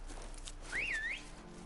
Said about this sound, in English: I thought you were whistling at her then